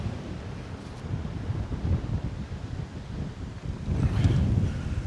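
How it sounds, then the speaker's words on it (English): Wind blowing over the microphone outdoors by water where swans gather, a continuous low buffeting rumble with gusts swelling stronger near the end, no talking. "I don't know if you can hear the wind over my mic."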